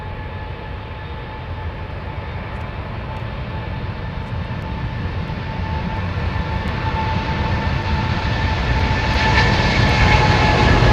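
Airliner engines spooling up for takeoff to Tampa, Florida: loud, close jet roar with steady whining tones that builds gradually over the whole stretch, with no voices over it.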